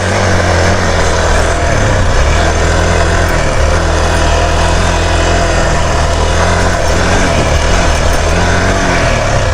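An enduro motorbike engine running close by at an off-road ramp-jumping spot, a loud continuous drone with shifting pitch as the throttle rises and falls.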